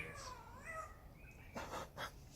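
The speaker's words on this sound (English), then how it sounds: "that's clearly mimicking a cat." A bird gives a cat-like meow, a short rising and falling wail, followed by a couple of quick, harsher bursts. All of it is quiet and close, with no voices.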